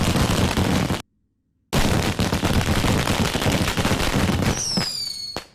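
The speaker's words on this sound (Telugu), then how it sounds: "టపాకాయలు బాబు వెళ్తున్నాయి" Firecrackers burst in a dense, loud crackling barrage that stops for a brief moment and then resumes, closing with a rising whistle and a final sharp pop.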